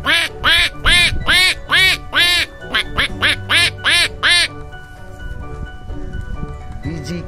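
A man mimics ducks quacking on a pond, giving a fast run of about a dozen loud, nasal quacks close to the microphone, then a softer stretch with a final quack.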